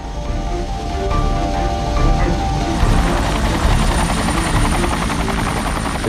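Military rescue helicopters flying in a hostage rescue mission, a steady loud rotor thrum and turbine whine that builds and holds, with no talk over it.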